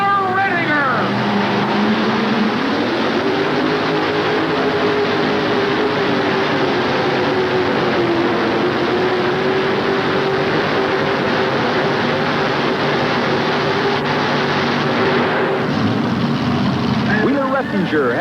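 A modified pulling tractor with two Donovan engines roars under full load at a 1988 NFMS 5800 class pull in Louisville, Kentucky. The engines hold a loud sustained howl, with pitch shifts near the start and end, under an announcer's commentary.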